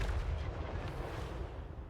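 Cannon fire rumbles in a Total War Warhammer 3 battle, a low, muffled barrage of booms rolling together at a distance, fairly quiet with no voices.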